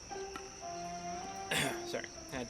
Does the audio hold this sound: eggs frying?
no